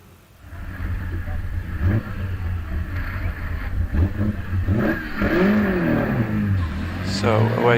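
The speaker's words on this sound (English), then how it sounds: "So away goes the classic Bugatti." A vintage Bugatti Type 35B race car accelerates away up a hill climb course, its engine rising in rough, revving pitch sweeps from moderately near, with a commentator talking over it.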